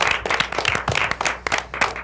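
An audience claps for Tim on a variety show, a dense patter of hand claps filling the room at close range without any talking.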